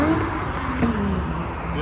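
A Volkswagen Golf VR6 drives past at a Japanese car meet in Reading, its engine a steady, fairly close drone that holds for the whole moment, with people talking over it.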